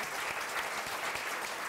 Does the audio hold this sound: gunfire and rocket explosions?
no